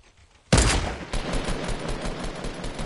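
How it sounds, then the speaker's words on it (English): A sudden burst of Fortnite gunfire erupts, followed by a sustained rattle of rapid shots, loud and close. "I think I hear gunshots"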